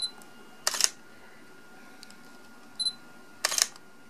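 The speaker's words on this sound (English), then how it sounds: "when you hear the beep, that means it's locked on" Short electronic beeps from a Sony camera confirming autofocus lock, tested with a Sony 24-70 f2.8 G Master alternative or an adapted Canon 24-70 f2.8 lens: three quick bright chirps spaced across a few seconds, close and clear in a quiet room.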